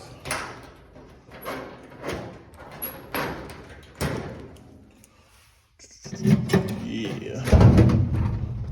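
A Husky cabinet drawer closes, starting with scattered knocks and slides, then a louder rumbling glide and soft-close thud near the end, with someone talking over parts of it.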